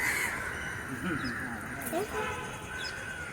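Several crows caw repeatedly at Thiruvananthapuram Zoo, harsh calls rising and falling against a steady background hum, with a voice talking underneath.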